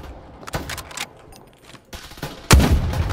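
Scattered gunshots in the shooter game Farlight 84, with a few sharp cracks early on followed by a louder, heavier burst near the end.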